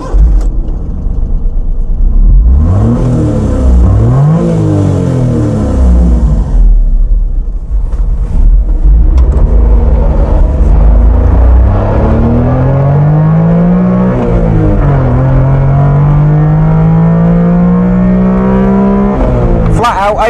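A 1992 Honda Beat's small engine screams flat out to 8,500 rpm while driving, loud and close, with rising and falling pitch sweeps as gears change, and someone speaking over it at points.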